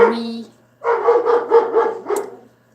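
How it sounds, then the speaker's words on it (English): A dog barks indoors, a close, loud run of about five quick barks after a brief tonal sound, with a short yelp at the end and quiet in between. "Sorry, that's my dog."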